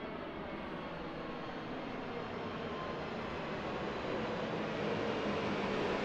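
An Airbus A320neo jet airliner climbs out after takeoff from Christchurch Airport at sunrise, its engines a broad, steady roar that swells slightly toward the end, heard from the ground with no talking.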